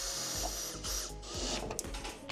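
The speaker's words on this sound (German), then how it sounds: "Zweiten Gang in Akkuschrauber" A cordless screwdriver in second gear drives screws into a standing seam metal roof sheet at the ridge, whirring steadily with a few brief rises in pitch and faint clicks, fairly quiet and alone.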